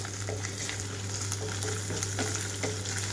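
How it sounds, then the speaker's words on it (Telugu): Tamarind leaves sizzle steadily in hot oil with ginger-garlic paste, a continuous crackling fry with light stirring clicks, close and moderately loud, no voices. "ఇప్పుడు ఈ ఆకంతా తాలింపులో వేసుకుంటున్నాను"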